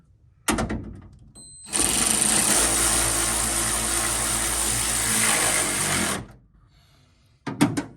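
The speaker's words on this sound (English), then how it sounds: "So now, get the final bolt on this side in." A power tool drives the final bolt into a Ford Bronco tailgate, a loud steady whirring motor running for about four seconds, with short bursts of tool noise before and after.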